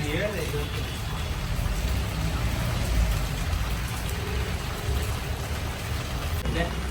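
Heavy, continuous rainfall pours down steadily, a dense close hiss with low rumble, brief voices at the very start and end.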